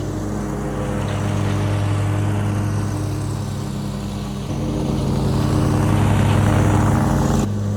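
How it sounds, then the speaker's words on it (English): A Toro zero-turn mower runs at full RPM with its blade engaged, a steady, loud engine drone with a strong low hum that rises a little partway through and stays close, with no talking. "here's the Toro at full RPM with the blade engaged."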